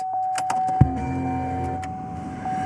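A steady, high electronic ignition key warning tone drones continuously inside a 2009 GMC Canyon, with a sharp mechanical clunk and some soft rustling and knocks near the start.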